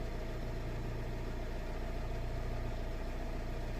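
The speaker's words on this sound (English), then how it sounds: "Okay, engine is running." A Nissan X-Trail engine idles at a steady, even rumble, heard close and continuous with no talking.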